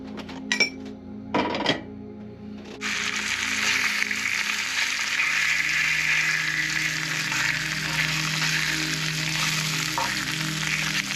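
Bacon frying in a pan aboard a narrowboat for a bacon sandwich, a few clanks of a pan and utensils first, then a loud, steady close-up sizzle that carries on unbroken to the end.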